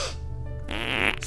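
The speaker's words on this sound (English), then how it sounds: "The best type of fart is the fart attack." Comedic parody fart sound, a loud sustained blast lasting just over a second that rises into a brighter, sputtering burst near the end, with no talking over it.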